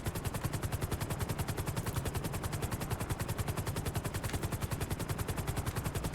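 Rapid automatic gunfire in Grand Theft Auto V rattles out in a fast, even stream of shots, continuous and fairly quiet for about six seconds with no talking.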